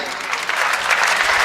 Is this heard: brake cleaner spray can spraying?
no